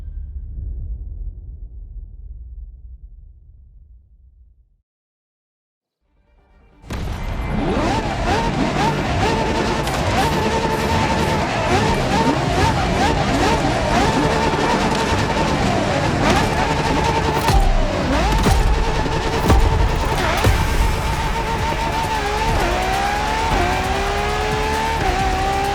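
A LaFerrari hybrid supercar in The Crew Motorfest roars up loudly after a short quiet gap, its engine climbing and dropping through gear changes with tire squeal, while someone talks over it throughout.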